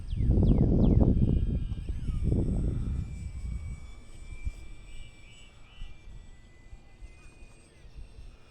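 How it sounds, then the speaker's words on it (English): An E-Flite UMX radio-controlled airplane flies outdoors in 10 to 15 mph winds. Heavy gusty wind rumble dominates the first few seconds, then a thin, high electric motor whine carries on faintly against quieter breeze. "Fun little plane."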